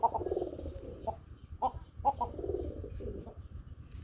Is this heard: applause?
no